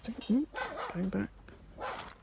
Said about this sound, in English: Someone's dog barking at me being annoying, Spence.